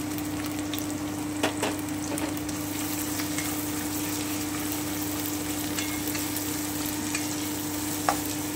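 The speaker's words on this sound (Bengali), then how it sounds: "আমি কুচনো পেঁয়াজটা দিয়ে দিচ্ছি।" Chopped onions with crushed garlic frying in a pan for a spinach paneer dish, a constant close sizzle with a few faint stirring clicks and a low steady hum beneath, no voices.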